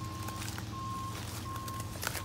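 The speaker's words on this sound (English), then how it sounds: "That's just somebody reversing their construction equipment." Three evenly spaced electronic reversing beeps from a forklift sound at a steady rhythm over a rumbling engine and scattered clanks, somewhat distant.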